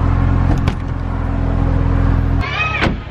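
Jeep Rubicon pickup driving with a steady low engine hum that cuts off sharply near the end, followed by a brief whiny squeal, with no talk over it.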